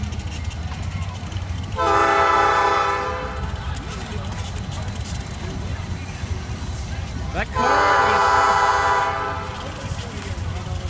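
A passing train sounds its horn in two long, loud blasts a few seconds apart over a steady rumble of rail traffic, with people talking nearby.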